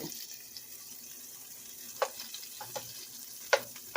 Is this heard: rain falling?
no